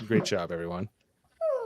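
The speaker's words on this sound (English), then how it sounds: "So, is that your dog?" A dog gives a short, high, falling whimper near the end, after a person speaks briefly and a moment of silence.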